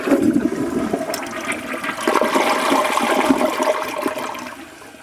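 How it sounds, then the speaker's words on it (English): The first flush of a newly installed toilet on a concrete slab, a loud close rush of swirling water that drains steadily and fades toward the end, with no voices. "I think we might be ready for the inaugural flush."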